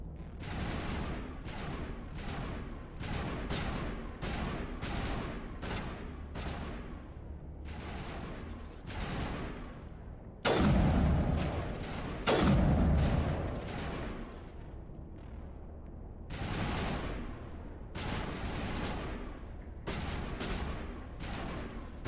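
Rapid bursts of sci-fi rifle fire in Mass Effect 1 combat, loud and repeated through the whole stretch, with heavier booming impacts in the middle.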